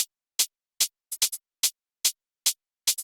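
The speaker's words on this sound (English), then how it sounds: "the pattern for the hats has to be a bit more accenty, a bit more groovy" A bright, crisp electronic hi-hat pattern with uneven, accented spacing and a quick double hit partway through, dry and isolated with nothing else playing.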